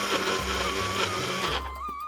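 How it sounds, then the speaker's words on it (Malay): A blender whirs loudly and continuously, grinding spices with a little water, then its motor pitch shifts and drops near the end. "Korang jangan terus blender je pula, letak air sikit."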